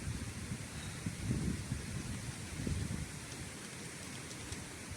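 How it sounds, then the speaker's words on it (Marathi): Rain falls with gusting wind outdoors, a soft, faint, steady patter with low rumbling gusts that swell twice, and no voices. "आमच्याकडे खूप जास्त हवा आणि हे आहे, पाऊस जास्त आहे"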